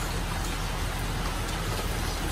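Steady rain falls on a rainy day in the countryside orchard area, a dense, even hiss of drops that holds constant and fairly loud throughout, with no voices.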